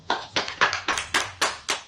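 A small audience at a Republic Day poetry gathering claps a welcome for a young poet, a sparse run of about seven distinct, fairly close claps.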